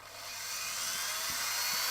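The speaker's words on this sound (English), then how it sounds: "It's a Dremel." A Dremel rotary tool spins up and holds a steady, high-pitched whine, ready to grind the top layer off an Amstrad GX4000 controller port. It sounds close and continuous, with no talking.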